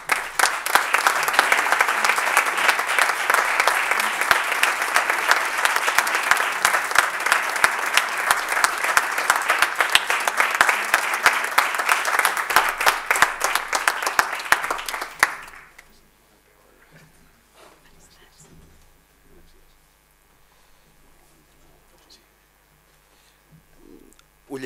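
Loud, dense applause from an audience welcoming a speaker at an evening communications awards gala, sustained for about fifteen seconds before cutting off abruptly into near silence with faint room noise.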